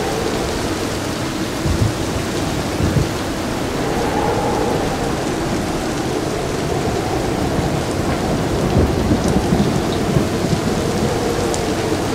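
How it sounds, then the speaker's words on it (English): A heavy thunderstorm pours over Brisbane by a running river: dense, loud rain roars steadily, with low thunder rumbling underneath and no voices. "Lots of lightning, lots of rain, the river's running."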